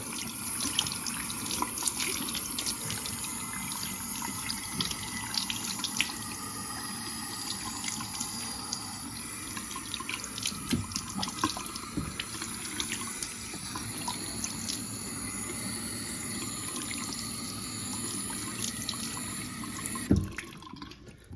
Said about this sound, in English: Let's try our other faucet here. Do the same thing with some warm water.